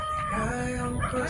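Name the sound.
chickens, rooster crowing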